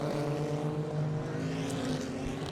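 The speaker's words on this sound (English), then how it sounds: "The sound of the cars rattling around this motorsport stadium" Race cars lapping Daytona International Speedway during the Rolex 24 endurance race, a steady loud multi-engine drone with layered engine tones holding throughout, no talk.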